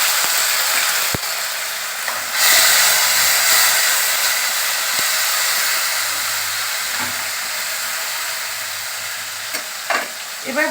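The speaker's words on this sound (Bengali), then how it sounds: "এবার দিয়ে দেবো আদা বাটাটা, আদা, টমেটো, কাঁচা লঙ্কা পেস্টটা দিয়ে দিলাম।" Ginger, tomato and green chili paste fries in hot oil with a steady loud sizzle, a brighter hiss flaring as it goes in, and occasional stirring knocks in the pan.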